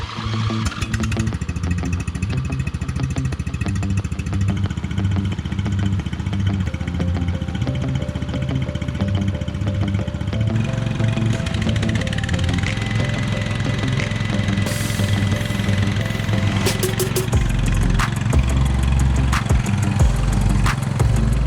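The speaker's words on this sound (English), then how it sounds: "I want to get this thing started up, make sure it still starts well" A Troy-Bilt Big Red Horse tiller engine runs loudly and continuously close by, its rough, pulsing idle shifting in tone partway through, with no talking.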